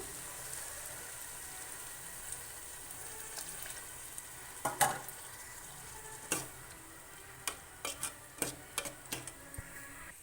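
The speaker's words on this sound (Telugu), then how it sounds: "కొద్దిగా చింతపులుసు పోద్దాం" Tamarind juice poured into a pan of egg curry sets off a quiet, steady sizzle, with a few sharp crackles and pops spaced out toward the end.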